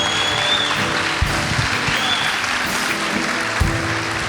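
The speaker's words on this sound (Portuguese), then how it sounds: "Aplauda o Senhor." A church congregation applauds together during a worship service, a steady wash of claps sustained for several seconds and filling the hall.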